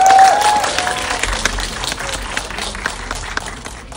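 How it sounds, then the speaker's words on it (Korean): An audience applauds steadily to welcome actors and a director onto the stage at a Korean film screening Q&A event, a dense, sustained wash of clapping that softens slightly toward the end. "큰 박수 부탁드립니다."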